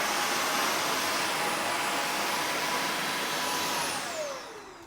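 A Tineco Pure One S70 cordless stick vacuum cleaner runs with a loud, steady, high-pitched whine for about four seconds and then winds down as its pitch falls, with no voices.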